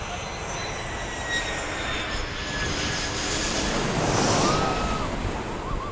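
A jet airliner comes in to land on a roughly 7,000-foot Caribbean runway beside a beach, its engine roar swelling and fading against the steady wash of surf.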